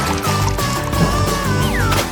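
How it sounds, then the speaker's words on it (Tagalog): Milk glugs and trickles as it is poured from a carton straight into someone's mouth during a speed-eating challenge, a short continuous pour over background music. "At ibubuhos ko ito diretso sa bibig ko."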